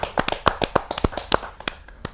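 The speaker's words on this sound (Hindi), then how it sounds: "जोरदार तालियों के साथ हम उनका स्वागत करें" A few people at a Hindi poetry gathering clap, producing sparse, distinct, uneven claps close by rather than a full crowd roar, with no talking.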